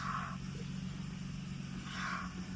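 A 1996 car with a newly replaced CV axle drives with a low, steady engine hum, moderately close and without talk.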